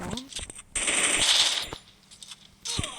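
Gunfire in the mobile battle royale game Free Fire: a dense burst of rapid automatic shots over about a second, with a few scattered single shots before and a short closing burst, loud and close.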